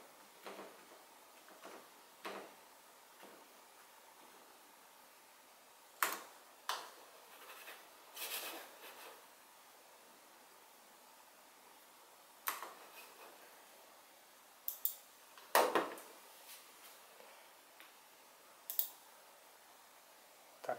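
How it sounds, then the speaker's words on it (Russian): Sparse clicks and taps of keys as a Wi-Fi password is typed on a keyboard, irregular and quiet, with longer pauses between short bursts. "Для ввода пароля я использую клавиатуру."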